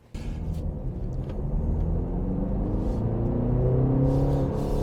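A BMW 330e plug-in hybrid 3 Series on the move, a low steady engine and road rumble heard from inside the cabin that starts abruptly and builds slightly as the car gathers speed.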